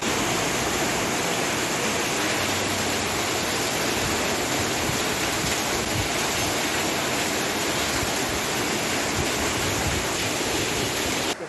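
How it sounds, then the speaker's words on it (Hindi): Rainwater floods a street after four inches of rain and rushes along like a small river, making a continuous, loud, broadband roar that stays steady throughout. "4 इंच बारिश ने सड़क को छोटी मोटी नदी का रूप दे दिया"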